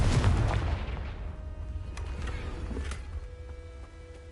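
A Confringo blasting curse explodes in Hogwarts Legacy with a loud, booming burst at the start that rumbles and fades over several seconds, leaving faint crackling debris.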